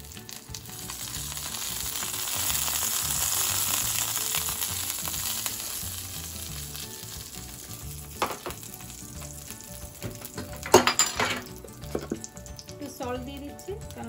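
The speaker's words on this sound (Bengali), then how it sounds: "তেল ছিটকে আসছে ওয়ান মিনিটের মতো একটু ভেজে নিব" Cumin seeds, black cumin and cardamom fry in hot, splattering oil, making a loud, steady sizzle that slowly eases, with a few sharp clinks and pops near the end.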